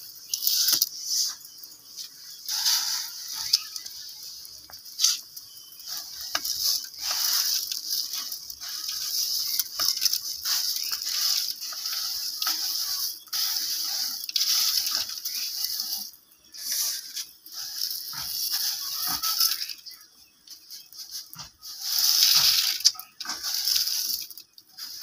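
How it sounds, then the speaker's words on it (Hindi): Water at a boil in a village kitchen pot as vermicelli is added, giving a steady hiss and bubbling patter with small scattered clinks and taps throughout, no talking. "मेरा पानी बॉइल हो गया, और अभी मैं इसमें डालने लगी हूँ जी सोइयां"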